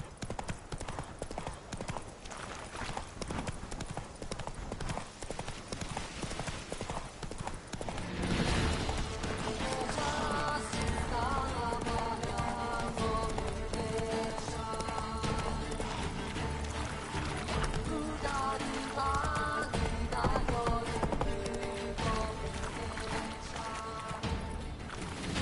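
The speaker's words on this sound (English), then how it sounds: "Run, Roach." Horse hooves gallop in a steady clip-clop rhythm through the open world of The Witcher 3: Wild Hunt, growing louder partway through, over game music with occasional short spoken commands.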